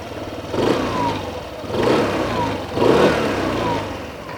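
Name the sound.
Hero Xoom 160 scooter engine running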